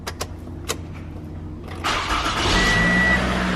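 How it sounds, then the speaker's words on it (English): Toyota Camry XV50 (2012–2017) sedan after crankshaft sensor replacement: a few faint clicks, then the starter whirs briefly and the engine catches, settling into a steady close idle. "See, the car started"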